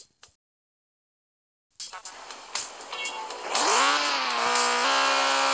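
Motorcycle engine in the Turbo Dismount video game starts after a short silence, then revs up sharply and holds a loud, buzzing high-pitched whine.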